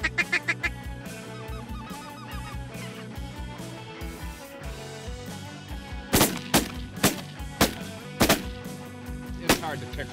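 A big flight of ducks and geese calling overhead during a waterfowl hunt, a dense chorus of honks and quacks punctuated by several loud, sharp shotgun blasts in the second half, with faint voices beneath.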